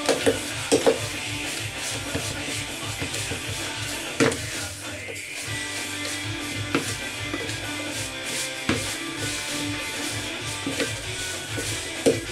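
Spicy sirloin stir fry with baby spinach is tossed in a hot wok, a steady sizzle broken by a few sharp clanks and scrapes of food and utensil against the metal.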